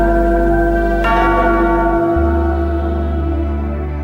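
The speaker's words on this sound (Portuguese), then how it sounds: "ei, sacristão, toca o sino aí" A church bell rung by the sacristan peals loudly with rich, sustained ringing tones. A second strike near the one-second mark swells the sound, and the bell then hangs and slowly decays with no talking.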